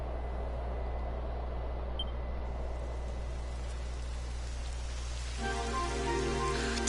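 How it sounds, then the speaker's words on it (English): Rain falls steadily in the Dragon Quest XI video game, a soft continuous hiss throughout, joined near the end by a brighter layered tone of game music. "It would have to go and start raining, wouldn't it?"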